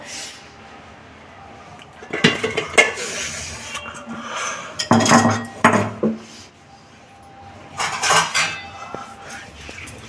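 A metal lid lifts off a pot of Bengali cauliflower curry and a utensil serves it out, giving several clinking, scraping bursts of cutlery against metal dishes at close range, separated by quiet pauses.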